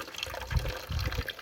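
Water tipped onto the ground to irrigate coconut palms in a Konkan orchard, giving short close splashing bursts of pouring and sloshing, with no talk.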